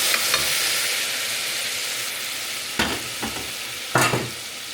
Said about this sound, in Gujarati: મસાલા સાથે મિક્સ કરી દઈએ.